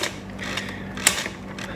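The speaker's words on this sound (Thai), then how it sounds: "ลูกกิ้งตัวนี้เป็นตัวลำเลียงกระดาษขึ้นมาเพื่อ เพื่อจะให้ตัว กระดาษนั้นหมุนได้ดีมากยิ่งขึ้นนะครับ" A printer's paper-feed roller mechanism turns with a steady mechanical whir and faint clicking, including one brief sharp click near the middle, close up, with no speech.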